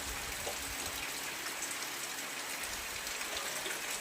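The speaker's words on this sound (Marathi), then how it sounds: "पाऊस कसा आहे ना येतोय जातोय आता हवा आली." Steady rain falls outdoors at a rural home during the rainy season, a dense, even patter of drops on surfaces that fills the whole stretch at a constant level, with no voices.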